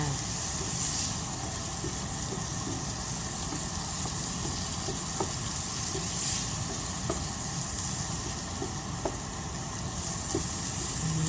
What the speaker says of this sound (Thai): คนไปเรื่อยๆให้ผักสุกไปในตัวค่ะ